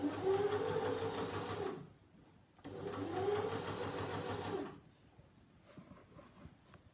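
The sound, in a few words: sewing machine running ease stitching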